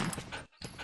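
A dog in the original Resident Evil video game pants in quick, breathy bursts at moderate level, with a brief gap in the middle and no speech.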